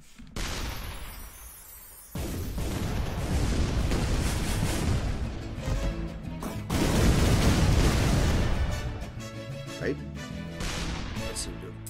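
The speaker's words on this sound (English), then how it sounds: "We got more fireworks." Bursts of fireworks weapon explosions boom and crackle in ShellShock Live, loud sustained blasts with dense rumbling surges and scattered pops, a lull near the start and another big swell midway, with talk mixed in.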